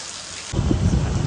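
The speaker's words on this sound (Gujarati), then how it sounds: "વરસાદ સુરતમાં વરસાદ" Heavy monsoon rain in Surat, a steady wash of falling rain that swells suddenly halfway through into a louder, denser downpour, close and with no talk.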